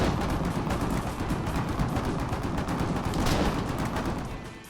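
A 14.5mm anti-infantry flak gun fires in the Foxhole video game, a dense, continuous stream of rapid, heavy shots that stays loud and steady throughout, then tapers off at the end.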